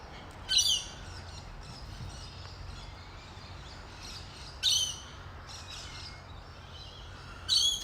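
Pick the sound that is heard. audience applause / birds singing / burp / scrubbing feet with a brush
birds singing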